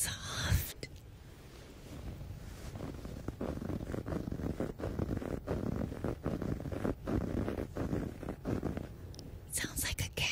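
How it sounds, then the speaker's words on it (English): A soft towel is rubbed close to the microphone, making a continuous soft rustling with rhythmic strokes, and a voice whispers briefly at the start and end. "And I'm gonna rub the towel now, because it looks soft."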